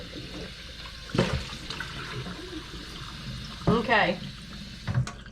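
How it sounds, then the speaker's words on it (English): Tap water runs inside a turkey to rinse the cavity, a faint steady splash underneath brief bursts of talk. "Rinse the inside again."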